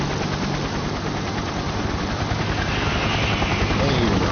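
Helicopter arriving in the park in the NBA 2K video game, a loud, steady rotor and engine drone filling the whole clip, with speech-like sound mixed in.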